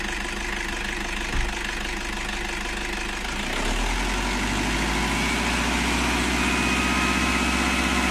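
Toyota Hilux engine, logging fault code P1271, idles with a steady low rumble, then is revved up about halfway through, rising to a louder, sustained higher-speed hum with no talking over it.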